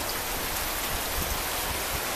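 Rain pours over a home garden in Sri Lanka, a constant close wash of falling water with a few heavier drops pattering through the hiss. No one speaks.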